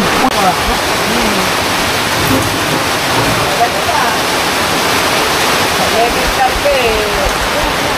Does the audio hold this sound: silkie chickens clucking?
no